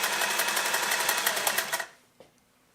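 A Singer 403A sewing machine stitching at a fast, even mechanical rattle, close and fairly loud, then stopping abruptly, followed by a single small click in the quiet.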